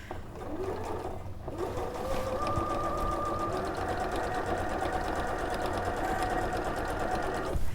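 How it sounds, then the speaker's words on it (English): A domestic sewing machine running steadily for several seconds, top stitching with contrast thread; a continuous close mechanical whir with a fast, even needle rhythm, starting briefly, pausing, then running on. "I've got a contrast thread on here, so let's aim for some neat stitching, Lucy."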